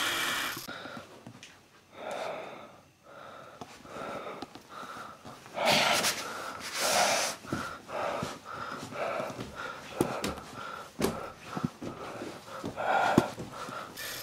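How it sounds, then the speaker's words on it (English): Effortful breathing through a gas mask with the filter hole covered: strained gasps, sniffs and snorting intakes come in irregular bursts close to the microphone, with pauses in between. "you put your hand on the filter hole like this, and if you can't breathe, it's airtight"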